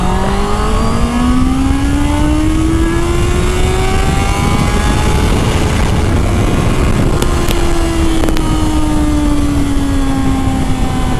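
A Honda CBR 650R motorcycle pulls hard in second gear, its engine note climbing steadily in pitch as it revs up, then easing slightly near the end, loud and continuous with wind noise and no talking.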